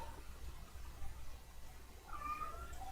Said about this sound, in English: My cat's just going, meow.